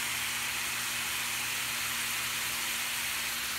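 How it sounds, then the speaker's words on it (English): Hamburger meat, onions and green pepper sizzle together in a frying pan, giving a steady, even hiss with no talking over it. "the hamburger and the onions and the green pepper are cooking"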